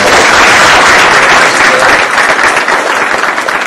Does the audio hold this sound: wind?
no